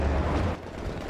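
Gunfire aimed at a tank during a video game battle: a loud, steady burst of blasts and rumbling for about half a second, then a thinner, quieter crackle of shots.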